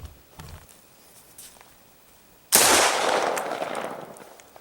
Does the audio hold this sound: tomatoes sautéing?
no